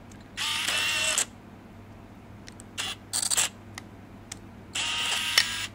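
Three bursts of mechanical film camera noise, a Nikon 28Ti and a Leica: a long whirring shutter-and-advance sound, a cluster of quick clicks, then another extended whir, each fairly close.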